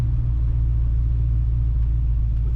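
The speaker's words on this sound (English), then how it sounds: "Today we're driving a very nice 1956 Ford F100 pickup truck." A 1956 Ford F100 pickup with a floor-shift manual transmission rumbles steadily while driving, its low, loud engine drone constant throughout.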